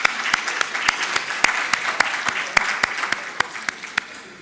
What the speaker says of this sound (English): And I think we should applaud them again.